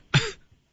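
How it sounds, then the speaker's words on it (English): One short, harsh cough, close and loud, from a man who keeps coughing as he laughs, in a morning radio studio. "I keep coughing, but when I laugh, it gets worse."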